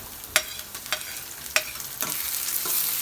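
Egg bhurji with tomato frying in a pan, with a few sharp spatula scrapes and taps of stirring over a low, steady sizzle that grows slightly louder toward the end.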